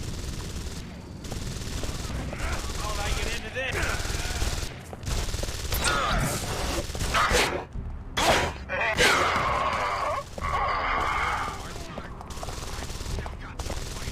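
Rapid, dense bursts of gunfire from the video game Deus Ex: Invisible War fill the whole stretch as overlapping volleys with brief gaps, loud and close, with a voice occasionally underneath.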